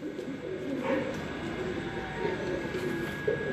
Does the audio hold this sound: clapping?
no